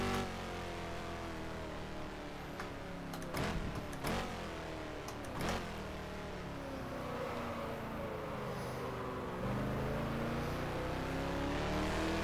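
A Lola T70 race car engine in the rFactor sim racing game, driven on the Solitude circuit, drones steadily with rising and falling revs, shifting pitch through gear changes, moderately quiet and without talk.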